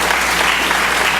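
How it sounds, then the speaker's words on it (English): Audience applause rings out after a talk in a series on rethinking security beyond mass incarceration, a steady, dense wash of clapping hands that fills the whole short stretch at an even, loud level. "please join me in giving her another round of applause"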